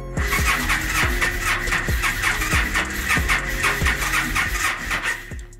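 Yamaha V-Star 1300 motorcycle cranking over with a little throttle, a steady starter grind with rhythmic pulses repeating about twice a second, close and loud, never catching or starting.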